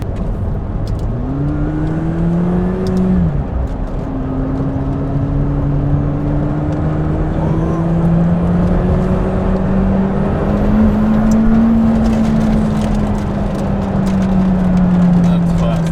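McLaren 720S 710 hp supercar with Performance Package pulling hard under part throttle, a steady engine drone rising gradually in pitch over a continuous road roar, with a brief upshift early on.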